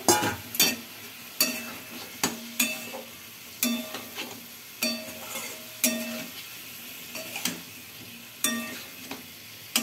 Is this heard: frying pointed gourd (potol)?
yes